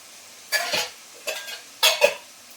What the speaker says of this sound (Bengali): আমি এখানে চিকেনটা ভালো করে কষতে থাকি